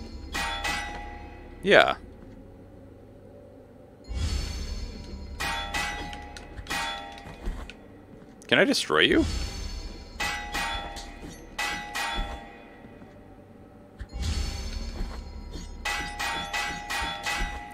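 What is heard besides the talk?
bell ringing in the video game Blasphemous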